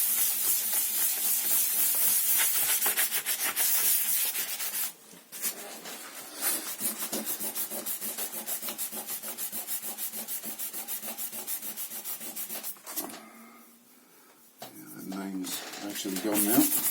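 Steady, scratchy back-and-forth rubbing of sandpaper on a guitar headstock being smoothed for spray paint, continuous and fairly close, with brief pauses near the middle and end, then a sharper scraping burst.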